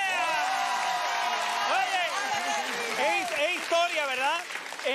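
An audience applauds fencing medal winners on a live TV show: steady, dense clapping runs throughout while several people talk and call out over it.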